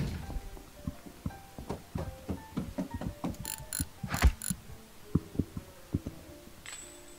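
Repeated mechanical clicks and ratcheting taps from a wrench being used in the Monaco heist video game, steady and close, with a brief brighter burst midway and no talking.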